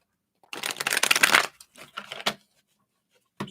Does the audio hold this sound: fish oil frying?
no